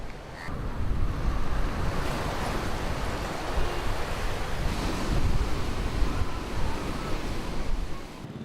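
Ocean waves wash continuously against the Mumbai seashore, a broad, steady roar of surf mixed with wind buffeting the microphone, close and loud throughout.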